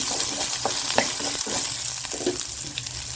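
Grated coconut tossed into a hot oil pan for horse gram chutney fries with a loud, steady sizzle, punctuated by repeated stirring scrapes.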